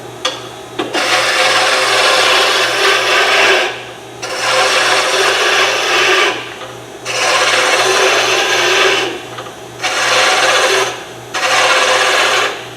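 Wooden pen blank ends trimmed during a pen-turning demo: four loud, close rasping bursts of several seconds each, separated by brief pauses, over a steady low motor hum, with no talking.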